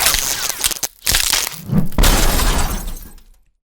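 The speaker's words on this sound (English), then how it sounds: "We crashed directly into the tree." A car crashing head-on into a tree, with a loud burst of shattering, breaking glass and crunching impact noise that rings out and then cuts off abruptly.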